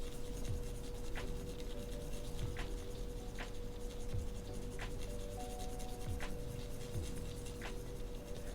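Graphite from a mechanical pencil shades across cold pressed watercolor paper in a steady, close scratchy rasp, with lighter strokes repeating roughly every second under a continuous low hum.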